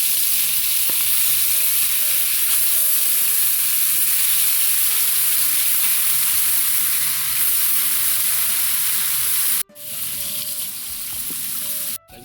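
Galunggong (round scad) fish frying in a pan of oil, a steady loud sizzle and crackle throughout with no talking, briefly cut near the end before the sizzling resumes.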